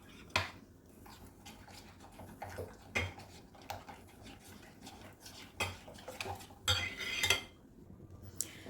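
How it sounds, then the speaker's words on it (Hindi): Egg being whisked into a chicken fry batter paste in a bowl: intermittent light clinks and taps of a utensil against the dish, close and faint, with no talk. "इसमें मैंने जो अंडा डाला है वो आपने इस मिक्सिंग के साथ उसको अंडे को भी अच्छे से फेंट लेना है"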